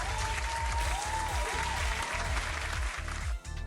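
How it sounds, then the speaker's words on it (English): A crowd claps enthusiastically, a dense burst of applause that carries on steadily before tapering at the end. "Let's give them some applause."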